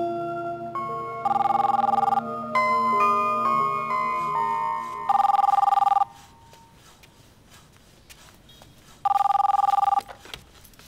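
A telephone rings in three loud, evenly spaced bursts, with a soft melodic tune playing before them that fades out, in an otherwise quiet room with no talk.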